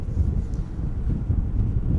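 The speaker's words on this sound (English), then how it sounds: "The wind is picking up once again." Wind gusting across an open airport apron at Amsterdam Schiphol, a loud, low rumbling buffet striking the microphone continuously, with no other distinct sounds.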